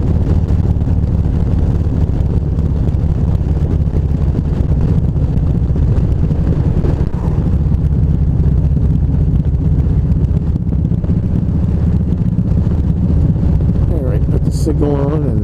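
A truck grinding up a steep hill at low speed, its engine a steady low drone with wind noise buffeting the microphone throughout, loud and continuous, with a brief higher whine near the end.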